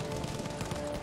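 Lewis gun firing in Battlefield 5 comes through as a fairly faint, continuous stream of machine-gun shots with a steady rattling rhythm and no voice over it.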